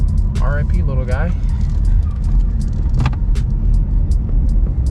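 Inside a 2022 Chevy Malibu on the move, with a loud, constant low road and engine rumble filling the cabin, a few faint ticks and jingles over it, and a person talking briefly early on.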